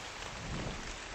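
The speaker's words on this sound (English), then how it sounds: "when it is raining so hard that you can't even see a bear?" Steady hiss of heavy rain falling in the game Ark: Survival, a dense, even wash with no breaks, moderately loud and alone without voices.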